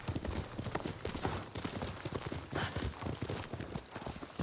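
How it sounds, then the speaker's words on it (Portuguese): Horse hooves galloping in the video game Ghost of Tsushima, a rapid rhythmic clip-clop of repeated thuds over several seconds at moderate volume. "o tio gosta de correr com cavalo"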